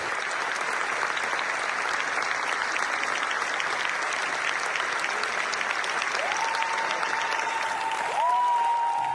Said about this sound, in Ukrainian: Це оплески вашому фільму, вашому подвигу і вашому всієї команди.